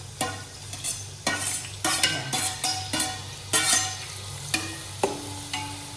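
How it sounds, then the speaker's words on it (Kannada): Chopped onions hit hot oil in a pan for Karnataka-style donne biryani, sizzling and crackling loudly with repeated stirring clatters and scrapes through the pan, no voices. "ಚಾಪ್ಡ್ ಆನಿಯನ್ಸ್ನ ಒಳಗಡೆ ಹಾಕ್ತಾ ಇದ್ದೀನಿ"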